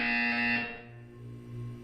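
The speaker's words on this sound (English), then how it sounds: "When you hear the buzzer, look down at the floor." Buzzer in the video game Portal 2: a loud harsh electronic buzz held for about half a second, then cutting to a quieter humming tone.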